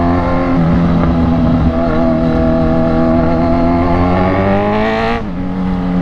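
A Z1 motorcycle on the road, heard from close by as a loud, continuous engine roar with rising pitch as it revs, then a sudden shift near the end, no speech.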